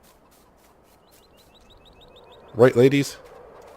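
Faint, rapid chirpy clucks from chickens in a coop in the Farming Simulator 19 video game run quietly in the background before someone speaks briefly near the end.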